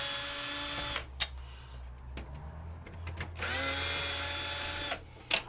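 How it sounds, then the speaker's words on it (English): A power driver with a Torx bit backs screws out of a mostly plastic printer, giving two sustained whirring bursts separated by short clicks and handling knocks, close and fairly loud. "let me just grab the Torx bit. Start taking some screws out."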